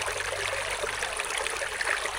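Rural river flowing steadily, a continuous soft rushing and trickling wash of water with no voices.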